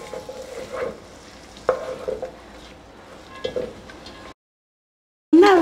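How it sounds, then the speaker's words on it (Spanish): Onion slices sautéing in 70 grams of butter in a saucepan, a steady close sizzle with a few stirring scrapes and clacks, then a brief silence before a loud burst of sizzling at the end. "en una cacerola voy a colocar 70 gramos de mantequilla y vamos a acitronar una cebolla así en plumitas"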